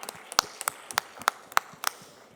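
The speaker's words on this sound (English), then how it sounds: "a huge round of applause for Nikita, please" Scattered audience clapping at a beauty industry event, a handful of sharp separate claps at an uneven pace over a faint room hiss, with no talking.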